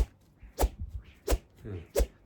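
Swings of a Brave Sword 11 badminton racket cutting the air, three sharp close whooshes spaced evenly about every 0.7 seconds with quieter rustle between them.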